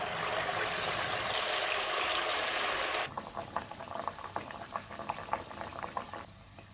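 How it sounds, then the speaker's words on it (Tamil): Wheat paniyaram batter bubbles in hot oil, first as a loud, dense, even roar of frying, then as a lighter, crackling sputter with scattered pops. "அதே மாதிரி நல்லா பொரிஞ்சு மேலெழுப்பி வந்துடும்."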